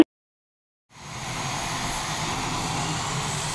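A Boeing T-X jet trainer takes off: after a moment of silence, a loud, steady engine roar rises quickly and holds as a broad continuous rumble, with no talk.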